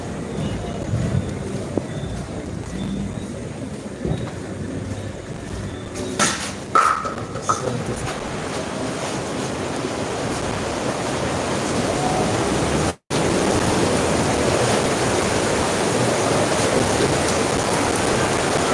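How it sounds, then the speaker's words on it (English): Rain falls steadily outdoors as a dense, even hiss that fills the whole clip, with a brief dropout near the end before the wash of rain resumes at the same level. "Yeah, get out of the rain."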